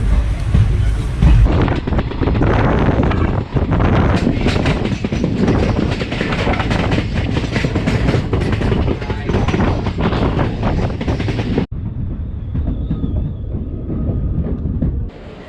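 An express train running from Varkala to Kollam rumbles loudly with a constant rattling roar and wind buffeting the microphone, then the noise drops abruptly to a quieter hum near the end.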